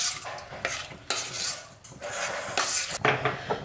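Potato and carrot pieces are stirred in a frying pan for a restaurant-style veg crispy snack, with repeated scraping strokes of a utensil against metal over a light sizzle, close and rhythmic.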